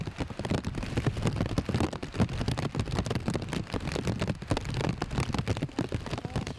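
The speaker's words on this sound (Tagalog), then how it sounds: "Dahil bigla namang bumuhos ang malakas na ulan." Heavy rain pours down steadily on a rural mountain trail, a dense, constant hiss of drops with irregular spatters, loud and close, and no voices.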